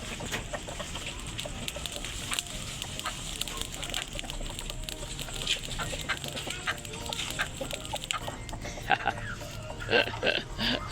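Chickens cluck and squawk amid a busy, noisy background, with people talking throughout and occasional sharper bird calls toward the end.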